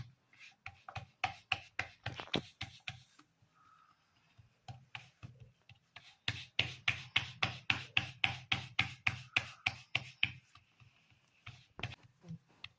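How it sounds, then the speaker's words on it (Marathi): Hands rhythmically pat bhakri flatbread dough made with kalan flour on a floured surface, producing a steady series of close, soft slapping thuds, pausing briefly before resuming in a longer fast run. "तर आपण मस्त भाकरी थापून घेऊया."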